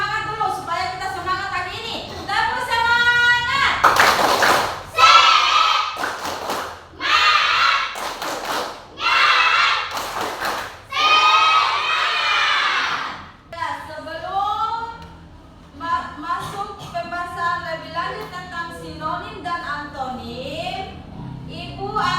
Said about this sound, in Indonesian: kita tepuk semangat dulu supaya kita semangat